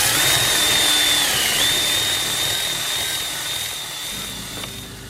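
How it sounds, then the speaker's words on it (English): A power drill fitted with 150 grit sandpaper smooths a new cast iron skillet, giving a loud steady high-pitched whine with a gritty scraping hiss that eases slightly near the end, and nobody talking. "So far we got the drill and we used the 150 sandpaper."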